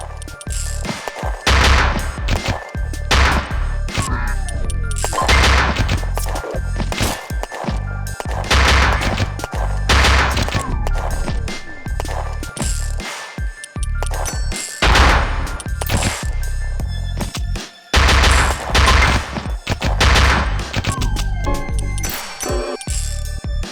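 Repeated bursts of gunfire, including sniper shots, crack loudly in the video game Luckslinger, arriving in dense clusters with short gaps over busy game music and metallic clinks.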